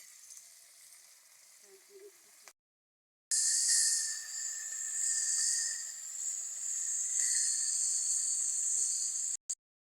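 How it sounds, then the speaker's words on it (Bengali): Fish heads frying in oil: a faint low crackle gives way to a brief silence, then a loud, close, continuous sizzling hiss carries on for about six seconds before stopping abruptly. "প্রথমে মাছের মাথাগুলো ভেজে নিচ্ছি।"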